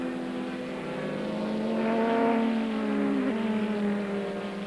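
A GT race car from the 2000 FIA GT season overtakes on the inside on a downhill run, its engine droning with rising and falling pitch as it passes close by, loud and continuous with a sharp gear change near the end.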